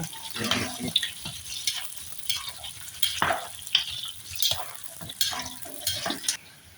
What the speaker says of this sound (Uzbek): Endi piyoz qizarguncha qovuriladi.